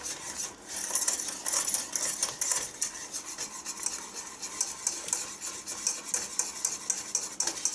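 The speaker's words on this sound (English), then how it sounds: "we're just going to keep whisking this to get that cream to mix in" A whisk beats cream into a melted butter and sugar sauce for hot buttered rum sauce, rapid continuous scraping and clicking against the pan, close and bright, with no talking.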